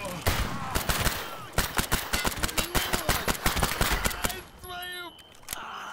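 Rapid bursts of gunfire from a firefight in the Stalker Anomaly shooter, sharp repeated shots crowding together for several seconds before tapering off, with a brief tonal in-game effect near the end.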